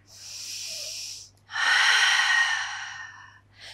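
Deep breathing during an intermediate Pilates mat session: a long, steady breath, a short pause, then a longer, forceful exhale that trails off, and a brief final breath. Close and fairly loud, with no speech.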